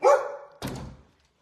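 A dog gives two loud, close barks in quick succession, the first sharper and longer, the second a short gruff woof, then silence.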